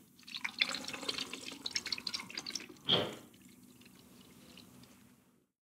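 Black-and-white film developer pours and drips into a developing tank, trickling softly before a brief louder gush, then quickly fades to quiet.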